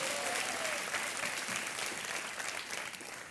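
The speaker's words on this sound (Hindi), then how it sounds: "चाहूंगा कि आप सब लोग तालियों के साथ अतुल जी का अभिनंदन करें" The studio audience of the KBC quiz show bursts into sustained applause, a thick, steady wash of clapping from many hands that eases slightly near the end.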